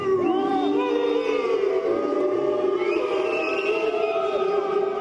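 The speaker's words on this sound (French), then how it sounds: "La foule rassemblée à la sortie de la salle d'audience exprime son mécontentement" A crowd gathered outside a courtroom in Guadeloupe after a verdict voices its discontent, with overlapping raised voices and drawn-out shouts forming a loud, continuous clamor.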